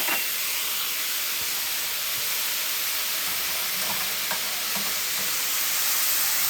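Finely minced onion sizzles steadily in a hot pan as it fries toward caramelized, a constant close frying hiss with a few faint stirring scrapes and no talking.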